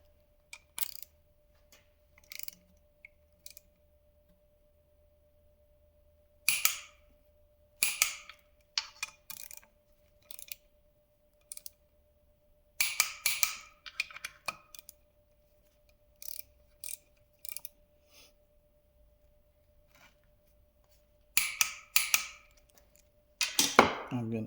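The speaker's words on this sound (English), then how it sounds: "I got my torque wrench ready." Torque wrench tightening intake bolts on an LB7 Duramax engine, giving sparse bursts of sharp ratchet clicks with quiet pauses between them, close up and fairly faint.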